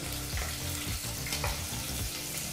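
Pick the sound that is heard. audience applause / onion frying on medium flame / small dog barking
onion frying on medium flame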